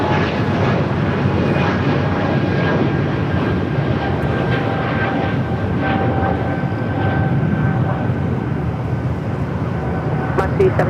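A jet airliner at Los Angeles International Airport takes off from runway 25 right, a loud continuous engine roar lasting throughout, with tower radio chatter heard alongside.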